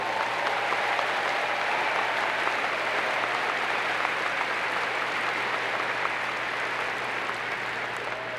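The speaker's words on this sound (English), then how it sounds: "If we could just give them a round of applause, please." Steady, dense applause from a large crowd fills the hall at a Florida State University spring commencement ceremony, holding at an even level throughout with no voices over it.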